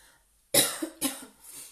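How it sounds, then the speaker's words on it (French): Two sharp coughs from a woman whose throat is irritated from talking, close to the microphone, followed by a softer rasping breath. "pour que j'évite de tousser. Parce que parler me m'irrite la gorge"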